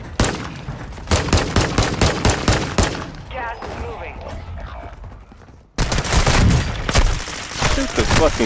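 Call of Duty Warzone 2 Resurgence gunfire: rapid bursts of loud automatic shots, a pause with a voice and fainter noise, then another dense sustained volley close up.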